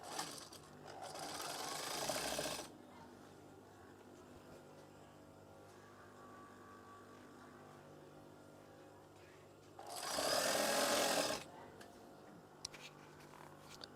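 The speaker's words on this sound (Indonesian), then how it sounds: "Jahit saja." A sewing machine stitching a curtain runs in two bursts, a whirring hum of about two and a half seconds and another of about one and a half seconds, separated by quiet room noise.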